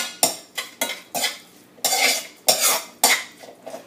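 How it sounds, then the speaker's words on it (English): A spoon scrapes and clatters against a pot as Haitian bouillon with beef is stirred, a series of close, sharp strokes in an uneven rhythm. "And what we're going to do is just mix this in."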